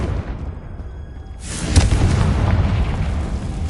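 A Confringo fire spell explodes in Hogwarts Legacy, a loud sudden blast after a brief quiet lull, followed by a sustained crackling, roaring rumble that fills the rest of the moment.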